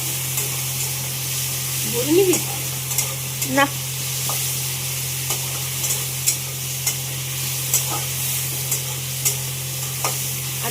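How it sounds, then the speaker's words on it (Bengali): Shrimp fry in a pan with a steady, close sizzle, broken by the scrape and clatter of stirring; a voice speaks briefly. "তো এখন চিংড়ি মাছ ভাজা হচ্ছে।"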